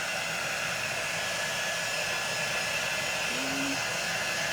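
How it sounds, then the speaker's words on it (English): A hair dryer blows a steady, even whoosh close by while drying a craft project, holding the same level throughout with no talking. "I'm going to dry this up."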